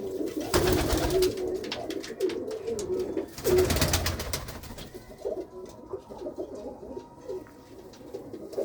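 Low, throaty pigeon coos roll on continuously, with bursts of wing flapping and rustling near the start and midway, then softer cooing.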